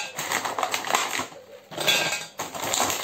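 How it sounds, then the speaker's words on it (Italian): Kitchen mixer grinding amaretti biscuits into powder, a loud rattling, clattering whir in bursts with short pauses between them. "Andiamo a tritare nel nostro mixer"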